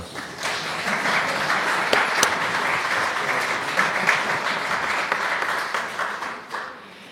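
Sustained applause from attendees at a French town council meeting, a dense, even wash of clapping that fades toward the end, with no one speaking over it.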